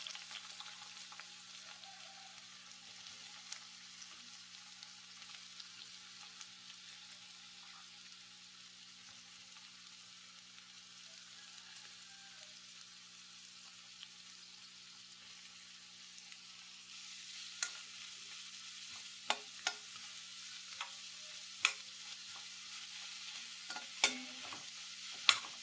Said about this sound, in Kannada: ಎಣ್ಣೆ ಬಿಸಿಯಾದಾಗ ಈರುಳ್ಳಿಯನ್ನು ಹಾಕಿಕೊಳ್ತಾ ಇದ್ದೇನೆ.